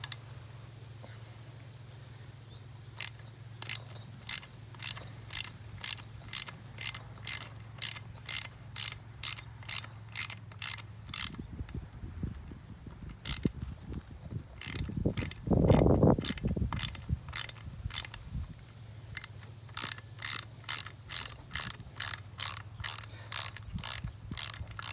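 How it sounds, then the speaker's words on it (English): A ratchet with a 10 mm socket unbolts the water pump bolts on a 2003 Mercury 40hp outboard. Rapid, close ratcheting clicks run in steady bursts over a low hum, with a brief louder scrape midway. "So we're going to get our 10 mil socket and our ratchet. And we're just going to go ahead and unbolt this if we can."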